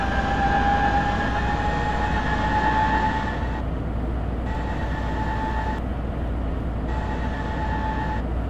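A Korean subway train rumbles steadily along the rails, with a broad low roar and a whining tone that drops out and returns in repeated stretches.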